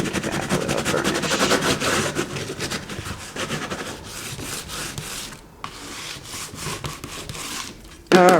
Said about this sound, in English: Give that a little burnish.